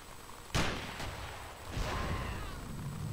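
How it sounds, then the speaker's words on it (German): A sharp, loud grenade blast in Battlefield 2 bursts out, followed by a second softer boom and a lingering rumble. "Der Granaten explodiert."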